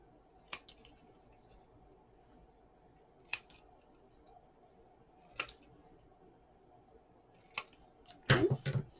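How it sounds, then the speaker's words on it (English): Scissors cut a small piece for a Christmas pendulum clock craft: four crisp, isolated snips a couple of seconds apart, then a quick flurry of cuts at the end, close and fairly quiet over a low room hum. "I can actually just use scissors because this one's small."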